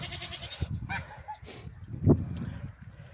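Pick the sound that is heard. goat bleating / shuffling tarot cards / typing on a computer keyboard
goat bleating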